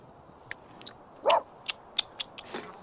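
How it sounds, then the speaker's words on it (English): A dog in The Sims 3 gives one short, quiet bark amid a few faint clicks and game sounds, with no talk over it. "Stop barking!"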